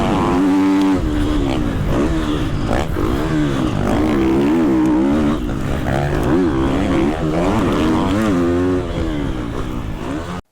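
A Triumph TF 250 X motocross motorcycle engine runs loud and close, its pitch rising and falling through repeated revs and throttle changes without a break.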